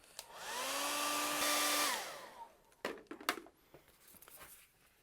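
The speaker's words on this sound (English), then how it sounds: "hit that with the blow dryer" Blow dryer drying primer on EVA foam: a loud, close whooshing roar with a tone that rises as it spins up, lasting under two seconds before cutting off, followed by faint handling knocks.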